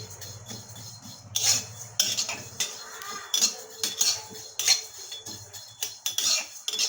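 Fennel seeds and black cumin fry in a pan while a utensil stirs and scrapes them in repeated bursts, with metallic scraping over a soft low sizzle.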